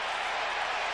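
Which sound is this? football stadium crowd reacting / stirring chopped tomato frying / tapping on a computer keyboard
football stadium crowd reacting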